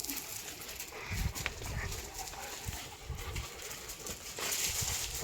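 A playful pet dog romping with another dog outdoors, scuffling sounds and occasional short barks at moderate distance, fairly quiet, with faint bird calls in the background.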